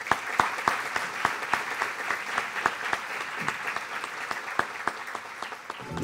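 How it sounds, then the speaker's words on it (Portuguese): Congress audience at a panel session applauds a newly welcomed guest, a moderately loud, steady patter of many hands lasting several seconds with distinct sharp claps scattered throughout. "Uma salva de palmas."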